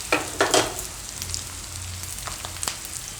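Potato pieces for Palak Dum Aloo are turned in hot oil in a pan, sending loud, close sizzling bursts at the start. A softer steady crackle of frying follows, with a few sharp spatters.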